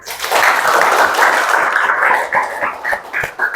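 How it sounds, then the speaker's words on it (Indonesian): Classroom applause from students during a lesson, a dense burst of clapping that holds steady, then thins into scattered separate claps near the end. "Kasih tepuk tangan."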